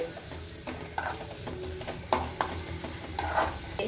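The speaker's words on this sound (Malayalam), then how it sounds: "നമ്മുടെ ചെറിയ ഉള്ളി ഒരു ചെറുതായിട്ടൊരു ഗോൾഡൻ കളർ ആവുന്ന സമയം വരെ നമുക്കൊന്ന് വഴറ്റിയാൽ മതി" Small onions (shallots) sautéing in a pan for Kerala mulaku chammanthi: a soft, steady sizzle with sharp, intermittent scrapes and taps of a spatula stirring, close up and without talk.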